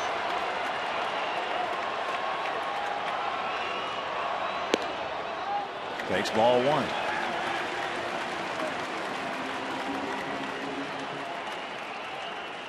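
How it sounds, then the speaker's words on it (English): Baseball crowd at US Cellular Field cheering and clapping during a White Sox game, a broad steady roar of applause with a sharp crack midway, under a broadcaster's commentary. "Crowd here at US Cellular getting a little excited."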